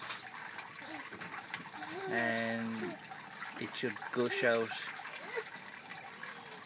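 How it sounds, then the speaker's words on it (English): Water gushes and gurgles through an aquaponics bell siphon as it kicks in, the flow rising and bubbling strongly midway while a person talks over it. "So the siphon is about to kick in"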